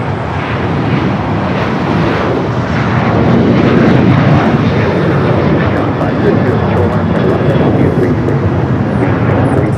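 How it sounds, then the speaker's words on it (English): An American Airlines 737-800 jet bound for Raleigh-Durham roars past at LAX, its loud, broad engine noise steady and slightly swelling, mixed with wind buffeting on the microphone. "the American 737-800 flight heading to Raleigh-Durham"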